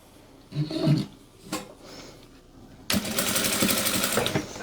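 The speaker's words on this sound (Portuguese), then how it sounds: "E agora a gente vai passar a costura." A sewing machine stitching a bandana starts with a few short bursts and handling noises, then runs in a steady close whir for the last couple of seconds, with no talking.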